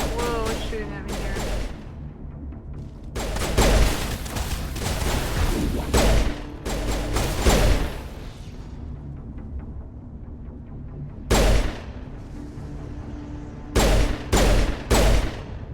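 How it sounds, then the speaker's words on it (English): Gunfire from the video game Mass Effect rattles in repeated loud bursts aimed at the player, with quieter gaps and a voice heard between volleys. "what's shooting at me here?"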